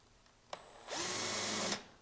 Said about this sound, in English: I'm going to countersink each one of these